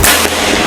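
A single sharp, loud report from a PCP air rifle, a close, abrupt crack with a brief trailing decay, heard alone.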